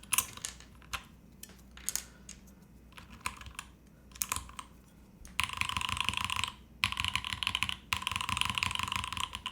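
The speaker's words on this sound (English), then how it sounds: "How does the GMK, J&K sound versus the Dom key?" Someone types on a mechanical keyboard fitted with GMK and Dom keycaps. Scattered clacky keystrokes give way to a faster, denser run of close, crisp clicks, with no talking.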